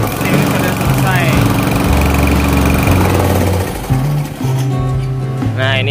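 A repaired grass cutter engine runs loudly up close, a buzzing, knocking idle that shifts pitch slightly as it settles, with no voices over it.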